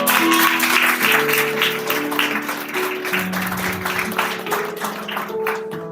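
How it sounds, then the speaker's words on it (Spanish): A church congregation claps continuously during a sermon, a dense, steady applause layered over sustained keyboard or organ tones. "Denle un fuerte aplauso al Señor."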